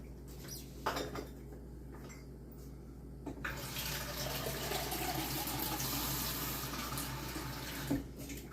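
Water pours steadily into a rice cooker's metal pot, a rushing splash after a few light clinks and taps.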